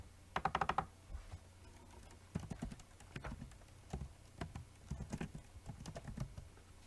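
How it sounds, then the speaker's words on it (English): Fingers tap on a computer keyboard in irregular bursts of light clicks, with a quick flurry at the start and scattered keystrokes after, faint and close with no talking. "You can type in the title of the first subsection into the first subheading button."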